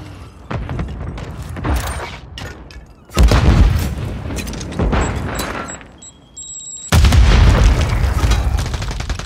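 A video game grenade explodes in loud, booming bursts with heavy low rumble, several blasts and gunfire-like hits in sequence, with quieter mechanical clatter between them.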